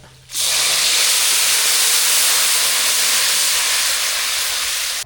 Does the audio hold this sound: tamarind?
yes